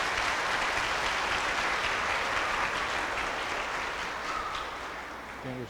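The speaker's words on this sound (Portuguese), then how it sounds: "vamos acolher os novos membros da comunidade com a salva de palmas" Congregation in a church clapping steadily to welcome new community members, a dense sustained round of applause that tapers slightly near the end.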